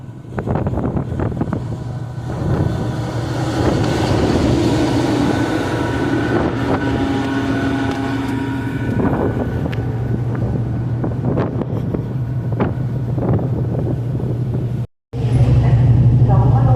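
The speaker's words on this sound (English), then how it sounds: "It's certainly got more blustery as the voyage has gone on." Strong, blustery wind buffets the microphone on the open deck of a Brittany Ferries ship sailing from Caen to Portsmouth, loud and continuous with a low engine drone beneath and a brief dropout near the end.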